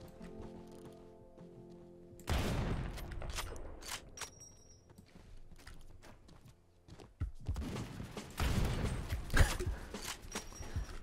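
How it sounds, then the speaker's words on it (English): Gunfire from a light machine gun or sniper rifle in Roblox Phantom Forces, loud bursts of shots starting suddenly and returning later, mixed with clattering mechanical and movement noises. "That's why I'm just randomly shooting."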